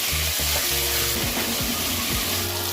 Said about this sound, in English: Make sure the pan is nice and hot and you hear this sizzling